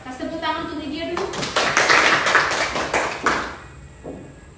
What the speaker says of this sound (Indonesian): Kasih tepuk tangan untuk dia dulu.